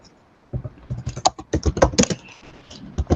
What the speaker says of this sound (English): I'm getting some background noise. You are probably using your keyboard.